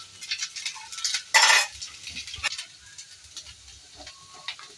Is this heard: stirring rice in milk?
yes